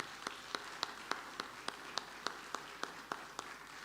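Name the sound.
church congregation applauding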